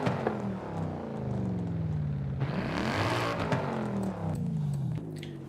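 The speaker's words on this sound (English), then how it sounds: "This sounds like the C63 engine to me." A 6.2-litre V8 car engine in Forza Horizon 5 roars loudly throughout, its pitch sweeping down, then climbing steeply on a rev before settling and dropping off near the end, with no talking.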